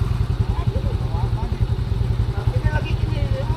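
A motorcycle engine chugs with a steady low throbbing pulse close by on a road in Bohol, loud and continuous with faint higher sounds over it.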